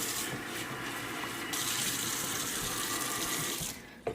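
Kitchen tap water runs steadily into a sink while utensils are rinsed after mixing a red velvet cheesecake, a continuous close hiss that stops abruptly near the end.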